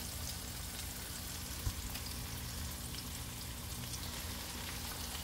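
Sliced squash fries in hot grease in a pan, giving a steady, dense sizzle and crackle that holds evenly throughout, close up and alone with no talk.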